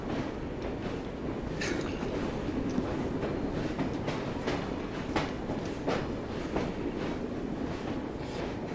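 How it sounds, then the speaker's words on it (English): A train ride in Assassin's Creed Syndicate, set in Victorian London, gives a steady, dense rumble of rolling carriages with faint clacks of wheels over rail joints and occasional brief high squeals, continuous and close. "I do like that Evie is just chilling out on the train"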